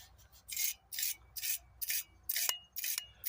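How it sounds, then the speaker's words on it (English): A wire brush scrubs rust off the threads of a propane tank in quick back-and-forth strokes, about eight rasping bursts close by and fairly loud, separated by short pauses. "I'm running the wire brush that I brought back here yesterday from my storage locker across the threads of the tank."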